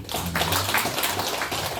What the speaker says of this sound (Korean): 박수를 받습니다.